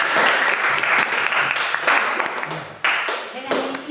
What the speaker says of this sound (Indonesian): Tepuk tangan untuk orang-orang yang ini mereka punya percaya dirinya di atas rata-rata.